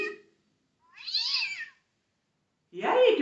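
A domestic cat meows twice, a short rising-falling cry followed by a louder, rougher one after a pause, close and clear with no talk.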